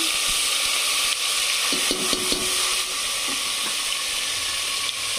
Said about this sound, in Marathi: चिकनला व्यवस्थित मसाला लावून ठेवला होता ना, तर ते टाकून घेऊ आपण. तेल तापलं.